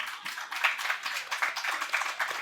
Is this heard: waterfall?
no